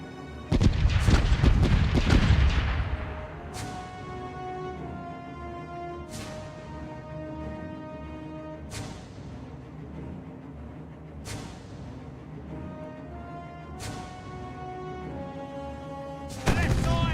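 Ship cannon broadside in the pirate game Caribbean Legend: a heavy cluster of booming shots at the start, then single ringing blasts spaced a few seconds apart over a musical bed, with another loud burst at the end.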